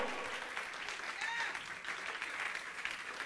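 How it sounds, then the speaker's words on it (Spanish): Congregation applause offered to the Lord during a Spanish-language radio program: a steady, fairly faint wash of clapping with voices mixed in underneath. "Dale un fuerte aplauso al Señor."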